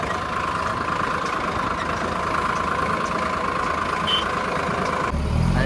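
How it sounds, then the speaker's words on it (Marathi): A tractor engine runs steadily at idle on a farm, a constant low rumble with a droning hum, close and unbroken throughout, getting slightly louder at the very end. "ट्रॅक्टर चाललाय बरोबर"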